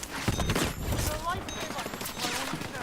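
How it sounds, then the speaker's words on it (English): Dense, continuous battle din of overlapping gunfire and blasts in Battlefield 6, a steady wash of cracks and rumbles with faint voices mixed in. "So many explosions"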